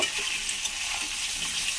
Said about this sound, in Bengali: তো আমার আলুগুলো এরকম ভাজা হয়ে গেছে।